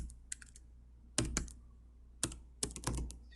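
Typing code on a computer keyboard, close and quiet, with scattered clusters of sharp key clicks separated by short pauses.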